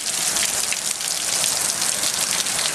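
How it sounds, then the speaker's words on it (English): Heavy rain falls steadily after a hail storm on a street outside a house in Temuka, a dense even hiss of drops hitting hard surfaces nearby. "Now it all has turned to rain."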